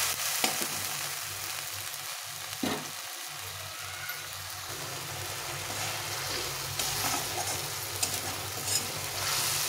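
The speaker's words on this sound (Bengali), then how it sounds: "এটাকে ভালো করে মশলাটাকে একটু কষিয়ে নিতে হবে।" A ginger, cumin and chilli paste with turmeric sizzles steadily in hot oil while being stirred, with a continuous frying hiss and a few soft scraping knocks throughout, no voices.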